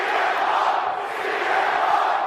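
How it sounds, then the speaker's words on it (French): A loud, dense wrestling crowd roar at AEW Dynamite, booing and chanting voices merging into a steady wall of noise, sustained throughout. "Il y a des huées, il y a surtout des chants"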